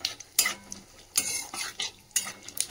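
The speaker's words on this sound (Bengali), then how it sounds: "ফোড়নটা ভেজে নিলাম" A tempering of cumin, bay leaf, dried chilli and asafoetida fries for chickpea dal, with three distinct bursts of a spoon scraping the pan over a faint, low sizzle.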